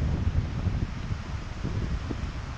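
Strong outdoor wind buffets the microphone during a drone flight near trees, a continuous low rumbling roar with gusty fluctuations and no voices.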